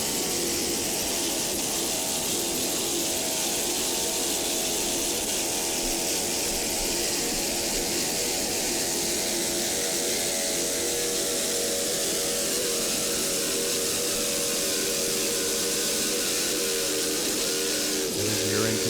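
Class 3 offshore powerboat racing engines roar continuously at close range, a dense, loud, steady drone with a slight shift in pitch over time.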